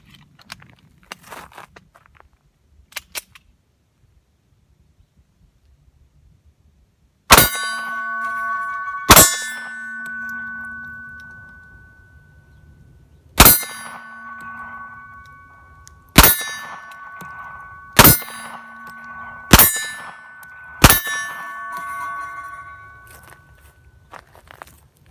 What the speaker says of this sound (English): We'll do the 7-round first and then we'll shoot the 8-rounder.